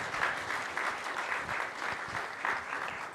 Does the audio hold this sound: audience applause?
yes